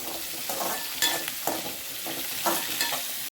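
Onions and tomato sauté in a pan, a bright steady sizzle swelling in short bursts each time the mix is stirred, up close and without voices.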